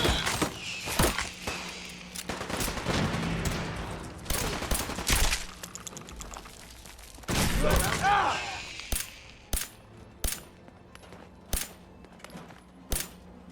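Gunfire in Fallout 4: bursts and single gunshots crack repeatedly, dense and overlapping at first, then spaced-out sharp shots in a steady rhythm toward the end, with a voice talking underneath.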